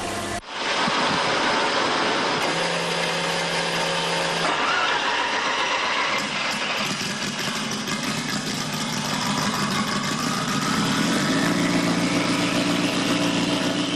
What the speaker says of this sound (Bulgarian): Това е най-бързата кола, която карам с 4-цилиндров мотор